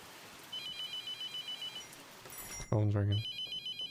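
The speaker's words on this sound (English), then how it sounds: "Phone's ringing." A telephone rings in the horror video game The Mortuary Assistant, a repeated electronic trill in steady bursts, moderately loud, with a voice briefly cutting in partway through.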